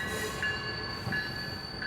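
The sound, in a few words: Chicago commuter train passing, South Shore or Metra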